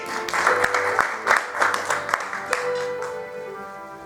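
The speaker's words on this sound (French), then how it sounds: "on acclame pour le Seigneur" A church congregation applauds during a French-language service, a steady crowd of clapping hands with a few louder bursts, filling the space for several seconds.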